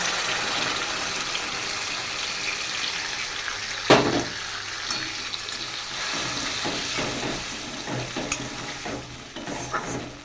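Ground spice paste hits hot oil with fried potatoes for a vegetarian raw-banana kofta curry, a loud steady sizzle broken by a sharp clatter of stirring and repeated scraping in the pan.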